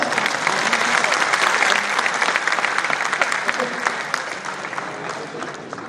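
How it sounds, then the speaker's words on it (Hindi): Loud, dense crowd applause at a political address by a chief minister, a steady wash of many hands clapping that holds for about six seconds before easing slightly. "उधर ताली बज रही, इधर भी बजाओ ना"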